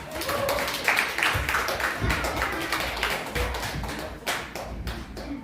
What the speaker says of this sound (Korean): 우리 아이들 힘내라고 우리 박수 한번 하겠습니다